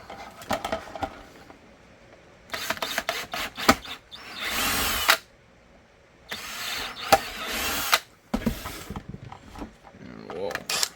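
Power drill boring holes through a handmade gun holster for a Smith & Wesson M&P 5-inch 2.0 pistol with a light attached, sounding in three loud whining bursts separated by pauses with workshop handling noises between them.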